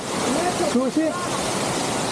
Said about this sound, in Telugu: వాటర్ కంటిన్యూ ఫ్లో అవుతుంటుంది